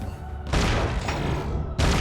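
Two heavy blasts set off in the Gunnhildr video game, each a sudden loud boom followed by a rumbling roar, the second starting shortly after the first fades.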